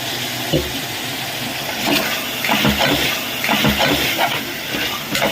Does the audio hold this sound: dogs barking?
no